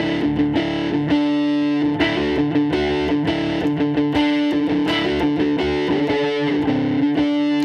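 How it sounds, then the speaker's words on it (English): Electric guitar played through the Nashville OD overdrive on a Fender Tone Master amp, voiced in front of the Super Reverb setting, strumming chords with a steady rhythm and sustained overdriven tone, loud and close with no talk. "That overdrive on the Fender Tone Master is called Nashville OD"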